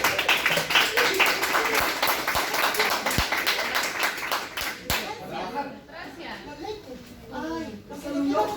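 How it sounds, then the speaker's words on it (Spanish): A classroom of students claps for a classmate, a brisk burst of clapping that fades after about five seconds as children's chatter and talking take over. "un aplauso para su compañero"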